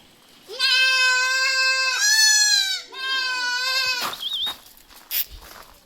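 Malabari goat kids bleat loudly in several long, wavering calls one after another, close to the microphone, followed by quieter mixed noise at the end.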